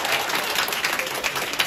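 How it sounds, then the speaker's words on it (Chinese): Sustained audience applause at a Chinese crosstalk (xiangsheng) show by Deyun troupe 5 in a full house, dense steady clapping throughout with no breaks. "谢谢大家伙这么热情的掌声"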